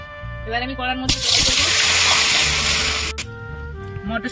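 Shelled green peas are rinsed with water in a kitchen: a broad gush of running, splashing water lasts about two seconds, close and fairly loud, set between quieter stretches of sizzling and kitchen sounds.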